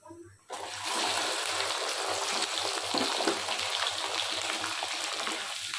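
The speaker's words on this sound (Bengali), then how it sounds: "এখন এর মধ্যে রসুনগুলোকে দিয়ে দেব" Garlic cloves drop into hot oil with already-fried chilies and panch phoron for a garlic pickle, setting off a loud, steady sizzle that starts abruptly and continues unbroken.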